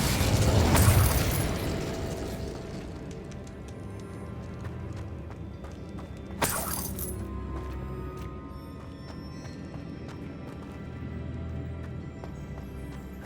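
Incendio fire spells in the video game Hogwarts Legacy, cast inside a witch's tomb, erupt as a loud whooshing burst at the start and a second burst midway. Low crackling rumble and faint clatter fill the gap, with no talk.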